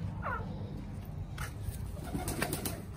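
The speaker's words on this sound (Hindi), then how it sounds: "यहाँ पे इस केज में कबूतर मौजूद हैं, बहुत ही प्यारे।" Soft pigeon coos from a caged pet flock repeat against a steady background hum, fairly faint and distant, with no voices.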